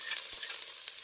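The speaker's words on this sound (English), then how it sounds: "So we've got our butter melting. We're just going to add some of our green onions." Butter with green onions and garlic sizzling in a pan, a steady soft hiss of frying with a few small stirring knocks, brief and quiet without talk.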